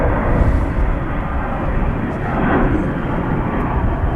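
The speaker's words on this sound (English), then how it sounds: "This is going to Orlando in Florida. Airbus A321." An Airbus A321 airliner taking off from Dallas/Fort Worth International Airport, a loud, continuous broadband engine roar that swells slightly midway and holds steady throughout.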